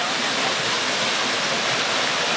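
Sitakund waterfall in Odisha, a dense unbroken roar of falling water, loud and close, with no voices or other sounds over it.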